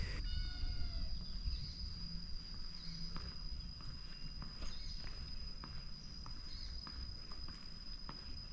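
A cat meows a few times, short and fairly close, near a quiet heritage site in Cilacap, with crickets and insects droning steadily and occasional footsteps in the background.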